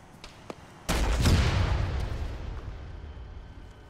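Anti-tank weapon fire in a military video game: one loud, heavy boom with a long rumbling decay, preceded by a couple of faint distant shots.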